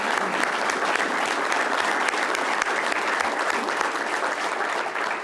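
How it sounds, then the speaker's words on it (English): Sustained applause for sheriffs and police officers at a Florida governor's news conference on law and order, a steady, loud round of clapping from a crowd that carries on throughout without a break. "a round of applause"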